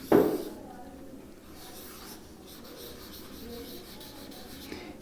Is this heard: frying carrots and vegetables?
no